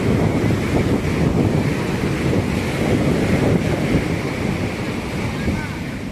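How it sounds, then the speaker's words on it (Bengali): Ocean waves roll and wash ashore on Puri Beach in a steady, continuous rush, with gusty wind buffeting the microphone throughout. "সমুদ্রের ঢেউ আসছে"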